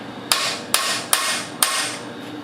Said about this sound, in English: I'm gonna grab a punch and a hammer and I'll be right back.